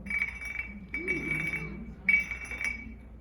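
A stone lithophone bar is scraped with another stone, giving a faint, glassy, ringing grind that comes in two or three short strokes, with a quiet murmur of voices behind it.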